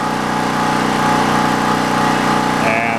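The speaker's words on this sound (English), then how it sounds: "This little generator we got is a Black Max 3550 running watts, 4550 starting watts." A Black Max 3550 portable generator with a single-cylinder Briggs and Stratton engine runs steadily nearby, a loud, even mechanical drone with a buzzing hum and no talking, and a faint whine appears near the end.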